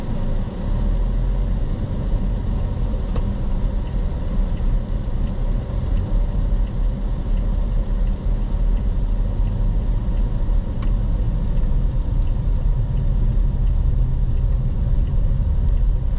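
A car drives through downtown streets of Prachuap Khiri Khan, Thailand, its engine and road rumble steady and close throughout with no talking and only faint passing traffic sounds.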